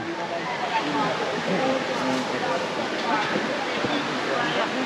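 A jungle river in Jamaica rushes and splashes in a steady, broad wash of water noise, close and fairly loud, continuous throughout.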